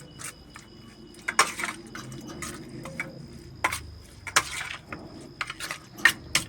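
Chicken being mixed by hand with pepper, cumin and garam masala powders in a bowl, with soft scattered clinks and taps of utensils and bowl, quiet and close, no talk.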